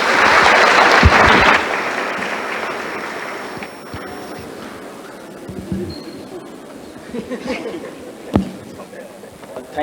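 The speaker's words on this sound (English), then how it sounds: "A big round of applause to all of them." An audience at a journalism panel session applauds loudly for the panelists, the burst of clapping lasting under two seconds before fading into quieter room noise with scattered knocks and faint talk.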